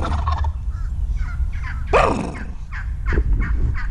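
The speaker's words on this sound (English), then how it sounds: "At least I got him to gobble for you guys." A wild turkey gobbles once in a loud, rattling burst amid other scattered calls outdoors in Florida, over a low background rumble.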